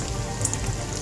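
Fish sizzles steadily in hot oil, a dense, even crackle with no break and no voices.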